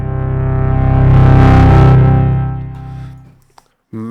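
A sustained tone pushed through the saturation distortion of the GÆSTEN sampler plugin swells to a thick, buzzy peak, then fades away, followed by a brief click and a short burst at the end.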